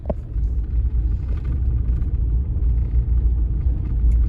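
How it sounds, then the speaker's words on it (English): Truck driving along a road, a steady low rumble of engine and tire noise from inside the cab, constant and fairly loud with no talking. "I'm gonna hop in the truck and get going"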